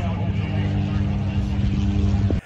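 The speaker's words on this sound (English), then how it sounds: "As he launches off the line is 300 horsepower Yamaha turbocharged" A STOL drag-race bush plane with a 300 hp turbocharged Yamaha engine roars at full power as it launches, a loud, steady droning propeller buzz that cuts off abruptly at the end.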